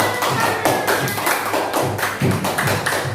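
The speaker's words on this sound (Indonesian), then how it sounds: "tepuk tangan untuk kelompok bengkel motor" A classroom of students claps for a group that has just presented its motorbike workshop project, the claps dense and close with heavier thuds scattered through a steady round.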